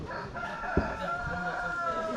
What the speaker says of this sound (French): Le chant du coq.